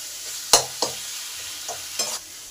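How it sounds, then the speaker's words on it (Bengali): Spices stir-fried together in a pan for a Bengali egg curry with potato, soybean and kohlrabi, a steady low sizzle broken by a few sharp scraping stirs of the spatula. "এবার আমি সব একসঙ্গে ভালো করে কষে নেব।"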